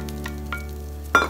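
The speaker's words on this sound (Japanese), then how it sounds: "そしてローリエを入れて軽く炒めていきます。" Rice stir-frying in oil with carrot, onion and bay leaf for a mackerel pilaf: faint crackles over a low kitchen hum, ending in a brief louder burst of sizzle.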